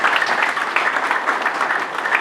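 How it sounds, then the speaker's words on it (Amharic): Audience applause for a woman, steady dense clapping throughout, close and fairly loud, with no gaps or talk. "ድገሙ አንዴ አጨብጭቡላት።"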